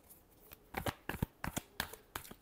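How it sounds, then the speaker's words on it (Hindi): A deck of cards is riffled and shuffled in quick repeated bursts, soft and close, with several crisp flutters spaced about a third of a second apart. "Last shuffle."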